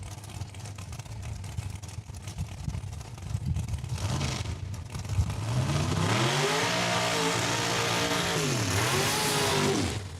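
A drag racing car launches and accelerates hard down the strip at Saskatchewan International Raceway, its engine rising to a loud, sustained roar with sweeping pitch changes through the gears, close and dominant.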